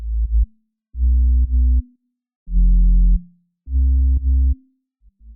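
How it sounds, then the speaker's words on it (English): Sub sine bass from Ableton with an added even overtone harmonic, playing four sustained low notes with short gaps, clean and loud, ending in a brief clipped fifth hit. "The overtone parameter adds a single even harmonic in the low mids, in other words, the same note but at a higher pitch."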